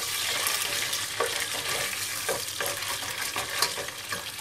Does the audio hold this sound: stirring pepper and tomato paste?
yes